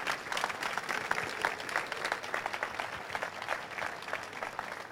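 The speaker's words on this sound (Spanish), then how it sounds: "Un aplauso enorme para estos chicos." Steady, close applause from a conference audience for a group of young presenters, many hands clapping at an even, sustained level with no talk over it.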